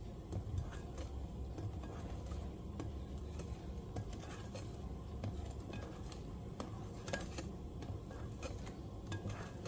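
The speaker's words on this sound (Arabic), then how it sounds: "وكنبقى نخلط من تحت لفوق كما العاده" A whisk or spatula folds génoise sponge cake batter in a bowl, making soft continuous wet stirring and scraping with light clicks against the bowl, steady and quiet, close up.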